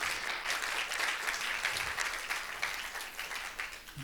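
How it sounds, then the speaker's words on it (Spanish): Church congregation applauding at a Spanish-language worship service, a steady, dense wash of many hands clapping at moderate distance, continuous throughout with no voices on top. "dale un aplauso al Señor"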